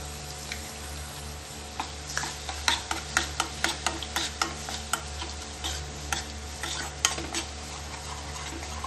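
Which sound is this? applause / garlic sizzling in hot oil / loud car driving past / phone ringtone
garlic sizzling in hot oil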